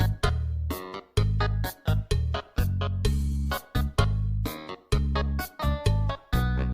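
Sound file called Muscles from a Homestuck-related project: a run of short, punchy bursts with heavy low end, stopping and starting in a choppy rhythm, loud and clear with no voices.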